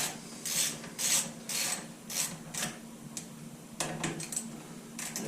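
A socket wrench working the brake caliper bolts on a 2019-2023 Can-Am Outlander, giving quiet repeated ratcheting bursts in uneven rhythm, close and faint.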